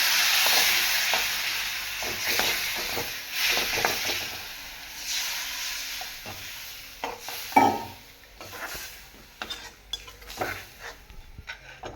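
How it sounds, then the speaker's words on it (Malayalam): Tamarind water is poured into a clay pan of fish curry on the stove, making a soft hissing sizzle mixed with stirring and utensil clatter. A sharper knock comes near the middle, and no one talks. "പുളി വെള്ളം ഒഴിച്ചിട്ടേക്കാണ് അത് നമുക്ക് ഇതിലേക്ക് ഒഴിക്കാം"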